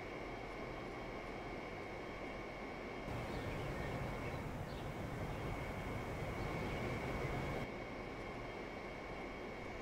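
A train in a simulator game runs on the Ipswich to Manningtree line with a steady, continuous rumble and hum. Its texture shifts slightly partway through, and no other sounds stand out.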